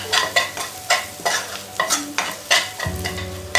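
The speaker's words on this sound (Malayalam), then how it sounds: "ഇനി ഇത് നല്ലവണ്ണം ഒന്ന് വഴറ്റിയെടുക്കാം." Chicken masala with pepper, coriander and fennel powder being sautéed and stirred in a pan, with a steady run of scraping stirs over a low sizzle and no voice.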